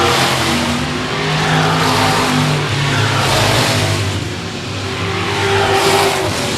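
Race cars battle on the oval at Shady Oaks Speedway, engines roaring loud and near as they sweep past, with revving surges and tire squeal rising and fading over several seconds.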